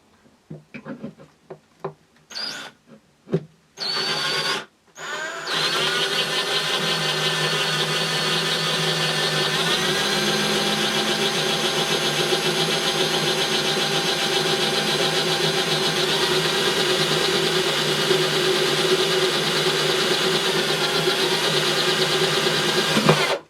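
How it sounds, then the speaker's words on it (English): A few short bursts of a power drill boring through a guitar bridge into the body, then a long continuous high-pitched whine as it runs steadily, loud and close. "drill through the bridge, through these holes here, through into the body"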